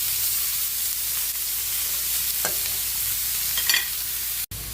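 Ground meat with carrots and celery sautéing in a pan, a soft even sizzle with a few scattered scrapes from stirring, quiet and without talk.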